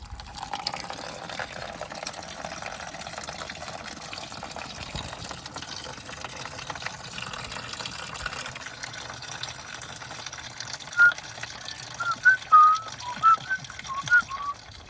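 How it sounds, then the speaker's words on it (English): Coolant drains steadily from a detached radiator hose on a Mini Cooper R50 1.6, a low, continuous trickling gush, with a few brief high squeaky tones near the end. "detach it so we can drain the coolant into this"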